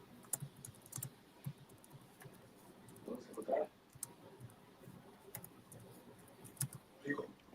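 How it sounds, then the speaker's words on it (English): Quiet, close clicks of typing on a computer keyboard during a podcast recording, irregular bursts of keystrokes with faint room noise and a few brief voice sounds. "That's all that typing."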